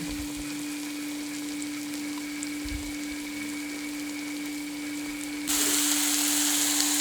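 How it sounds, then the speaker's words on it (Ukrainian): Steady sizzling of thawed parasol mushrooms frying in a covered pan, continuous and even, growing suddenly louder and brighter near the end. "Знову накриваємо кришкою і смажимо ще 5 хвилин до повного приготування"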